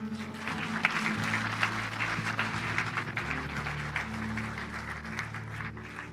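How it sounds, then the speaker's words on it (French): A church congregation applauds at a worship service, a dense, steady wash of clapping that runs throughout, with sustained music tones underneath. "Nous acclamons le Seigneur."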